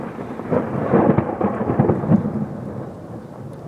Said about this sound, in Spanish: Por ahí se oye el trueno. Y por allí porque va retumbando por todas las nubes.